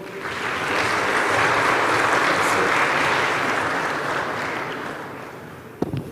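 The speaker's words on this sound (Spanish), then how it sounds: "Un aplauso, por favor." Audience at a geopolitics lecture in Quito, Ecuador, applauding warmly: dense, sustained clapping that swells, holds steady for several seconds, then fades out, ending with a brief thump.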